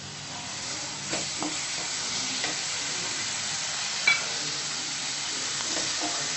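Tomato puree hitting hot sizzling masala in a pan for a potato and green peas curry, giving a constant close sizzle with scattered stirring scrapes and one sharper clink near the middle, without speech.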